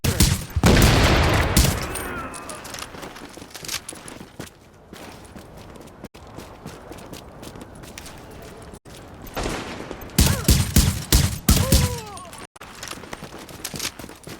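Gunfire in the video game The Division: bursts of shooting in two loud clusters at the start and near the end, with quieter scattered shots and movement between them, heard without speech.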